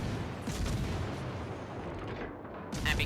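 Naval guns fire high-explosive shells in the game Munchen, with dense rumbling booms and blasts packed together and a louder burst at the end.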